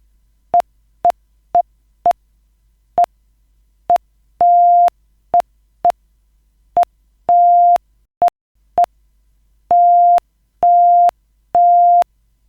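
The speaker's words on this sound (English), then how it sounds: "this beep and the flash is equivalent to Morse code of the text hello" A single steady electronic tone beeps in a pattern of short and long pulses, clearly spaced like Morse code, spelling "hello", with silence between letters.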